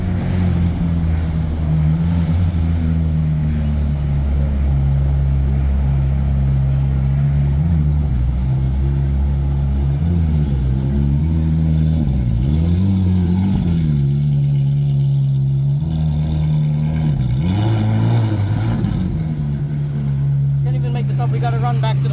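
A Lamborghini Aventador and a Ferrari 458 drive past on a city street, with strong engine tones that rise and fall as the cars accelerate and pass over a steady traffic rumble, and voices talking throughout.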